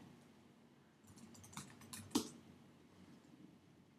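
Quiet typing on a Mac keyboard, a short run of soft, close key taps ending in one firmer click, with faint room hiss and no speech.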